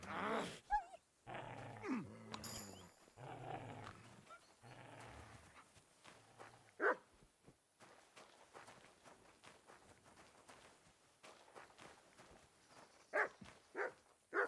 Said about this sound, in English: That dog wants to eat me!